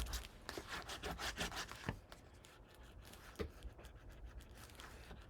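A folded paper tab with glue is burnished by hand on a mini album page, quick rhythmic scraping and rubbing strokes, close and quiet, with a few sharper taps between bursts.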